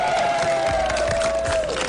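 A crowd at a basketball card community gathering claps and cheers in a dense, loud burst, with a sustained tone running through it and shouted voices mixed in.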